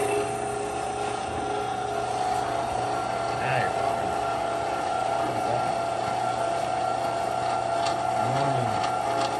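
A meat grinder runs steadily while grinding waterfowl and pork, giving a continuous mechanical hum with a few faint whirring rises and clanks, and a voice is heard faintly beneath it.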